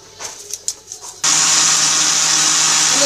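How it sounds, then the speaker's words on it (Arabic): Faint clicks and taps, then an electric blender mixing cake batter suddenly whirs to life with a loud, steady roar that continues to the end. "انا درت كلشي في الخلاط الكهربائي، وغادي نطحنهم مزيان هذا الخليط"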